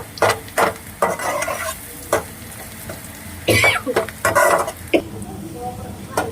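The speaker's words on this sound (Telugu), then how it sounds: "ఇవన్నీ మీడియం ఫ్లేమ్లో పెట్టి వేయించేసుకున్నామండి" Small chicken sticks frying in a pan over a medium flame, a continuous close sizzle broken by scraping stirs of a utensil, with a brief cough and faint voice in the background.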